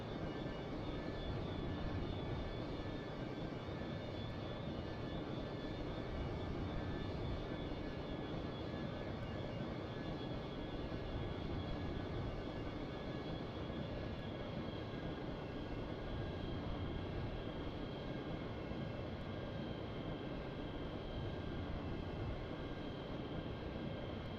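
An Avro Vulcan, XH558, taxis in the MSFS2020 flight simulator with a faint, steady jet engine drone and thin high whine. The hum runs continuously with no talk.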